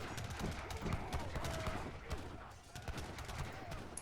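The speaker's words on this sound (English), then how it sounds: "Oh, but he's got some heavy cannons." Heavy cannons firing in a battle in Age of Empires III, a rapid scatter of sharp booming shots and impacts layered over busy battle noise, with a commentator's voice faintly beneath.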